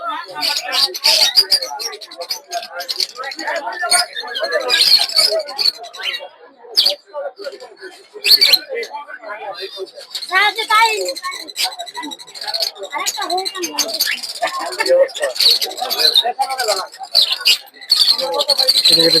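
Lovebirds and cockatiels at a busy bird market chirp and squawk in a dense, continuous chatter close by, with people talking over the birds throughout.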